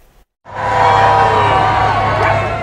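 Crowd noise at a royal visit in Northern Ireland, a loud sustained roar of cheering and voices rising after a brief quiet moment and holding steady close by.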